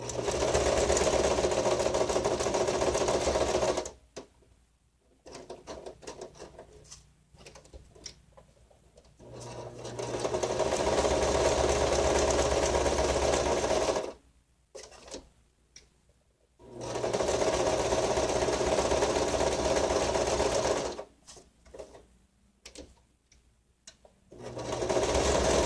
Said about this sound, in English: I'm going to just stitch this real quick.